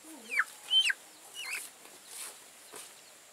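A small chicken, caught and released in a Vietnamese rural setting, gives a few faint, scattered clucks and chirps spread across a quiet background, with brief pauses between calls.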